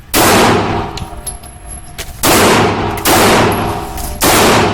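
Four loud, close gunshots ring out at an indoor shooting range, spaced about a second apart with long, booming decay between them and no talk.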